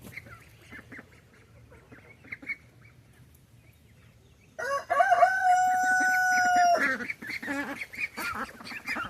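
Farm ducks and chickens: soft scattered clucks and quacks, then a loud drawn-out rooster crow close by, followed by more chattering fowl calls.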